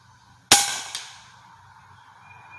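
A Hatsan Flashpup .25 caliber air rifle fires one sharp, loud shot outdoors, followed by a brief click and a fading metallic ring over a low background hum.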